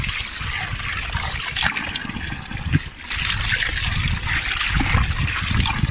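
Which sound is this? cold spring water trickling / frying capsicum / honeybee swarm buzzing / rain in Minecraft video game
cold spring water trickling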